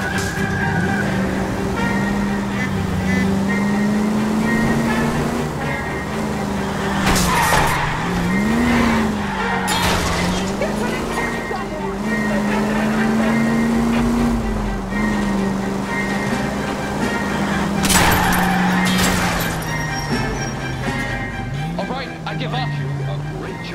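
A car in L.A. Noire roars along with a steady, rising and falling engine drone, and several loud tire skids and squeals break in during a chase, while voices talk over it throughout.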